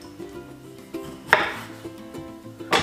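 Vegetables and meat are chopped on a board for a dish, with a few sharp knife strikes and clattering pots and utensils among quieter kitchen knocks, close and without talk.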